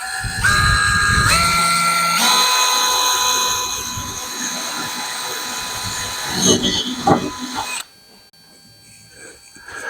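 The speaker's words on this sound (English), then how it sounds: "Okay, holes drilled in my template." A power drill boring 3/16 inch holes through a printed cardstock template for a Factory 5 Racing Roadster body, whining steadily with pitch shifts as it spins up and bites, then cutting off into quieter room sound.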